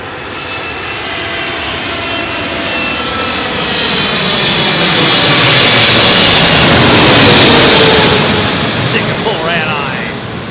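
A Singapore Airlines jet roars overhead on landing approach to London Heathrow runway 27L during thunderstorms, a loud sustained engine rumble and whine swelling as it passes close, then easing.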